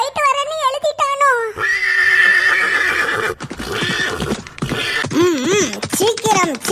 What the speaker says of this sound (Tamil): சீக்கிரம் சீக்கிரம் குதிரைகளை வேகமாக இயக்குங்கள்